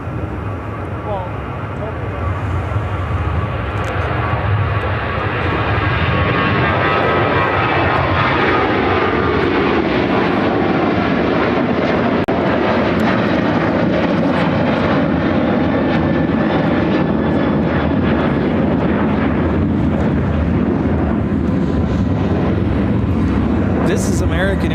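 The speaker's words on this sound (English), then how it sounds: "1109 taking off to Dallas Fort Worth on a 737-800" An American Airlines Boeing 737-800 takes off for Dallas Fort Worth at Chicago O'Hare, its engines roaring loud and steady throughout, building in intensity partway through, with a voice talking over the noise.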